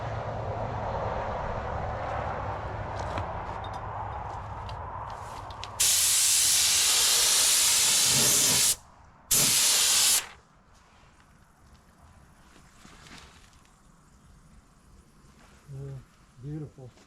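Spray gun applying primer surfacer to a 1968 Mustang, a loud steady hiss in two bursts of about three seconds and one second, with low background noise before and after.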